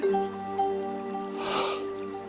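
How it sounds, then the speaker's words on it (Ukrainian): A single deep inhale during a gentle spine exercise, drawn in with an airy rush that swells and fades at mid-clip over a steady background hum. "Глибокий вдих"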